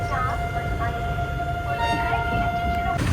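Chennai Mangalore Mail train rolling near Kozhikode, a steady rumbling run with a sustained tonal whine, continuous and fairly loud throughout.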